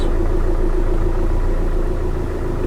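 A car engine idles steadily at low revs while the driver holds it at half clutch on an uphill slope and releases the brake, a continuous low hum close by with no voices.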